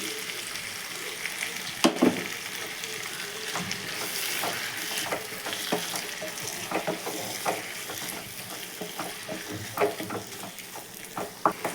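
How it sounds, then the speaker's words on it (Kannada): Ground masala for a bitter gourd gravy fries in a pan, a steady sizzle broken by frequent scraping and stirring clicks from a spoon, close and continuous. "ಈ ಸ್ವಲ್ಪ ಹಸಿ ಸ್ಮೆಲ್ ಹೋಗೋವರೆಗೂ ಫ್ರೈ ಮಾಡ್ಕೊಳ್ಳಿ."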